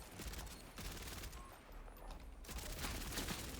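Rapid bursts of video game gunfire blaze continuously while enemies are being shot, loud, dense and crackling throughout with a brief dip in the middle.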